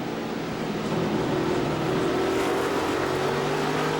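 A NASCAR race car engine drones steadily at the 2006 Subway 500, a continuous loud roar with a slowly shifting pitch, no talk over it.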